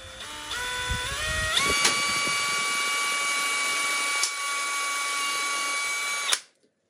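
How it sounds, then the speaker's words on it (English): Power drill boring holes in a house number plaque, the motor whining up in steps to a steady high pitch, then spinning down to silence at the end. "now I'll figure out what size of drill bit I need and drill those holes"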